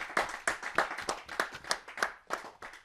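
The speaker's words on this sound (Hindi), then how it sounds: "दिल खोल करके तालियां बजाएं" Steady rhythmic clapping at a Hindi poetry gathering, about ten sharp claps in even time, close but fairly quiet.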